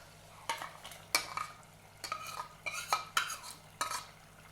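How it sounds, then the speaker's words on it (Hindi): Metal spoon scraping and stirring marinated prawns into a roasted masala in a pan for prawn dum biryani, about seven distinct scrapes with a faint sizzle beneath, close and alone. "और इसमें हम वो मैरिनेट वाले झींगे ऐड करेंगे।"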